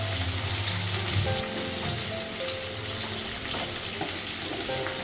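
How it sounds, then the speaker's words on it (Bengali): Onions frying in a pan in a home kitchen, a steady close sizzle with crackling spatter running throughout, mixed with faint clinks and tonal hums. "পেঁয়াজটা একটু ভেজে নেবেন।"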